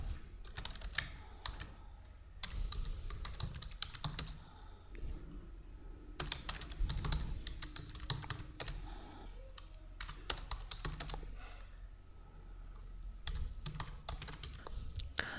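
Fingers tap out an email on a computer keyboard, quick irregular bursts of clicking keystrokes with short pauses, close and clear with no talking.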